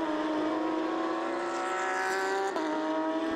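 A Porsche race car on the Oschersleben circuit during a Belcar Series race holds a steady, rising engine drone at close range, with a brief tonal break partway through.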